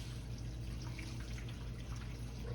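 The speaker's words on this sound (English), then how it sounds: "pour this in here, y'all, without making a mess" Liquid being poured into a cooking pot while making smothered bone-in chuck steak, a steady splashing trickle that stays even and fairly soft throughout, with no speech.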